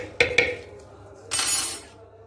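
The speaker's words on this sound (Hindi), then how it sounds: "ये मैं अमरूद काट के डालने लगी हूँ" Guava being cut and dropped into a bowl for a chutney with green chilies and black salt: two sharp clinks of utensil on dish, then a brief brighter rattle, close and alone without talk.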